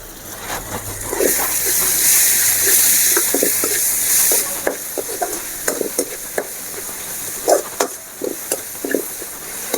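Potato fry with chilli powder and coconut milk cooking in a pan, a loud sizzle for the first few seconds easing into scattered stirring clatter and scraping bursts, with no one speaking.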